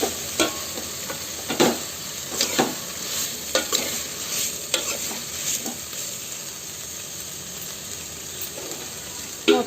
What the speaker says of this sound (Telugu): రుచికి సరిపడా ఉప్పు, వేసుకున్నాక ఇప్పుడు బాగా కలుపుకొని